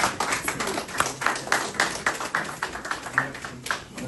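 Audience applause at an emergency APR party meeting, a dense run of close, rhythmic hand claps that pulses steadily for the whole stretch without any voices over it.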